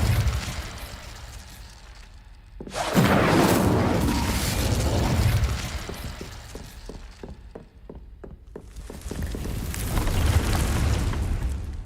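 A fire spell from Hogwarts Legacy bursts out in a sudden loud whooshing blast, with a roaring flare and a run of quick crackling pops trailing off before a second swell of fiery rushing noise.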